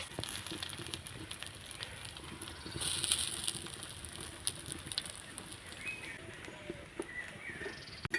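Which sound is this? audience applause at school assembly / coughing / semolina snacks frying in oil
semolina snacks frying in oil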